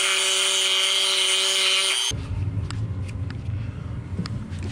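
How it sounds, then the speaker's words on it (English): A Dremel rotary tool clearancing a gas bike frame whines loudly and steadily, with a high sustained tone that cuts off partway through, leaving quieter scraping and clicking handling noises. "I have my Dremel, this thing right here, and I'm just simply gonna clearance it a little bit because it wasn't uniform"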